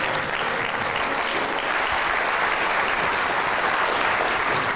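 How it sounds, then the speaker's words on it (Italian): Audience applause fills a finale event for an art modelling contest in Stresa, dense and loud clapping sustained evenly throughout with no voices over it. "regaliamo il primo applauso, il secondo diciamo, il secondo"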